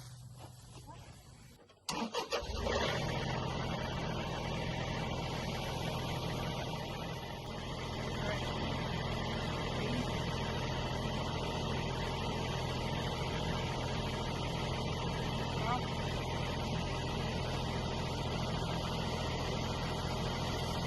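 A tractor engine starts after a quiet moment and then runs at a steady, rumbling idle, loud and close. Speech is heard faintly over it.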